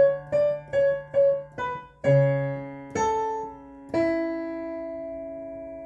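Solo piano plays part two of the chorus, as a short run of repeated struck chords followed by three longer sustained ones, clear and close with no talking.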